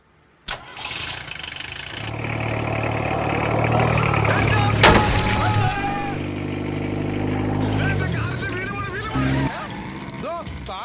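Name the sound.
car driving off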